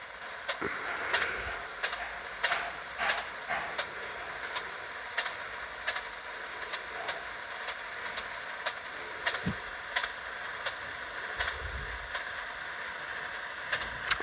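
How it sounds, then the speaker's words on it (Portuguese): A train running in the video game GTA San Andreas, a continuous rumbling hiss with frequent clacks and rattles of the cars over the track, steady and moderately loud throughout with no talking. "Quando você vê o trem tremendo, numa curva que ele pegar, ele capota."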